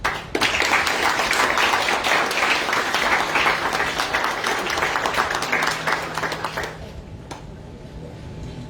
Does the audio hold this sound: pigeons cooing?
no